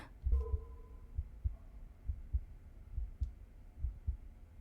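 Slow, steady heartbeat thumps pulse in the background of the video game 1000xResist, a soft low double beat repeating about once a second under a faint hum, with no voices.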